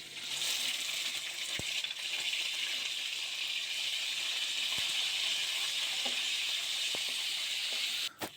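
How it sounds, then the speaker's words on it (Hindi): Boneless chicken frying in oil with garlic paste, a steady close sizzle and hiss with a few soft taps of utensils against the pan. "अब इसमें 250 ग्राम चिकन बोनलेस डालेंगे और फ्राई कर लेंगे।"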